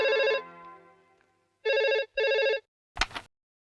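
A telephone rings in bursts, with a long ring, a pause, then two more quick rings, each loud and clear in a quiet room, followed by a brief clatter as the receiver is picked up.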